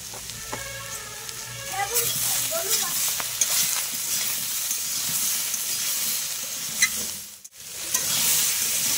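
A Malabar spinach (pui shak) curry sizzles and steams in a pan, with scraping stirs near the start and a continuous frying hiss that briefly drops away before resuming.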